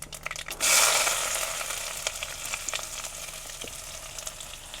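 Chopped onion dropped into hot oil with mustard seeds and cumin, a sudden loud burst of sizzling that settles into a steady frying hiss with a few faint stirring clicks, no voices.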